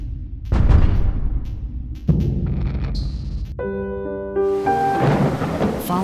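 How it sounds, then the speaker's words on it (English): Heavy thunder rolls and booms close and loud, with a sharp crack partway through and a low rumbling tail, while rain hisses steadily and a rising musical tone enters near the end. "The sound of thunder now strikes terror in the hearts of residents."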